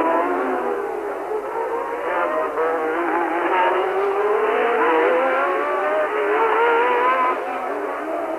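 Formula 1 race cars at the 1982 United States Grand Prix West on a street circuit give a continuous, distant whine of high-revving engines rising and falling as they lap, with no talk over it.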